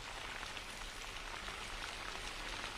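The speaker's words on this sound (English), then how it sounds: "It's very clearly starting to rain." Steady rain falling in Sarasota on South Shore Drive as Hurricane Milton approaches, a dense, even hiss of drops on surfaces with a low rumble beneath, constant and close throughout.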